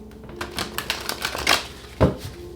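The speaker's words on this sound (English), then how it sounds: "Let's get 2 more shuffles." Tarot cards are shuffled by hand in a series of quick riffling flicks and soft taps, ending with a sharper slap of the deck, close and fairly quiet.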